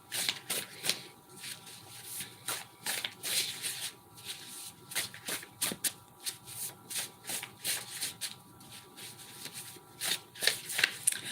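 Decks of playing cards being shuffled by hand, close and fairly quiet, a steady run of crisp riffling bursts and soft slaps repeating over several seconds with no talk.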